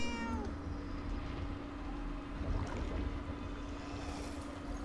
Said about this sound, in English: Or is that the cat that is making that sound?